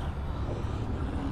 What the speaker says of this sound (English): Did I see the plane? Hear the plane?